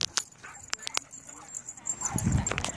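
A dog whimpers and yips in short, high whines, close by, with a few sharp clicks and rustles around it.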